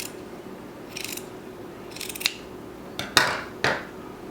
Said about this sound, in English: I'm going to go ahead and trim that down.